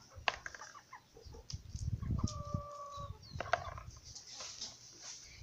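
Young chickens cluck in short bursts at close range on a rural farm, with scattered rustling and a few higher chirps mixed in; no talking.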